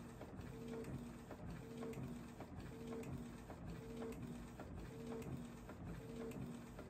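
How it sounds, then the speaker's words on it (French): A Canon Megatank G650 inkjet printer prints small cards with a faint, regular mechanical rhythm of repeating whirs and clicks from the print head and paper feed. "je vais imprimer mes petites cartes"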